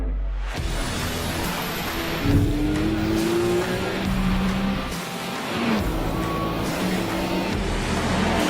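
Ferrari Challenge race cars circling Indianapolis Motor Speedway, a steady loud engine roar with rising and falling revs as cars pass, continuous over the whole stretch.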